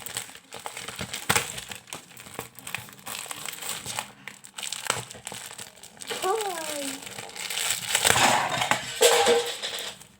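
The plastic packaging of a Kral Şakir pencil case is crinkled and crumpled as it is opened, with loud rustling and crushing that builds toward the end. Someone talks over the noise.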